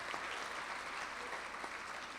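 Steady, dense audience applause at a science fair awards ceremony, a full room clapping continuously at even strength throughout.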